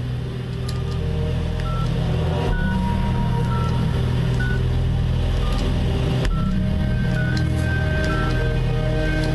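Short electronic beeps and tones of a telephone being dialed come in a brisk series over a steady low background hum and rumble, with no talking.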